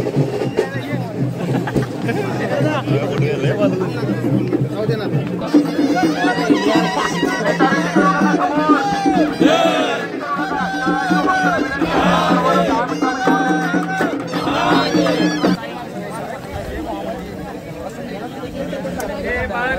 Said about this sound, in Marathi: गर्दी बघ किती